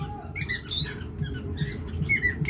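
A pair of opaline split mutation pet birds chirp and squeak in quick, high, close chatter over a steady low background hum.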